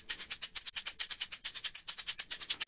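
A small bead shaker rattles in a quicker, tighter pattern, its rapid bright bursts of beads coming in an even, driving rhythm close to the listener, with no talking.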